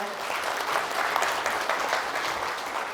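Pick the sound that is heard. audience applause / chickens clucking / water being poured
audience applause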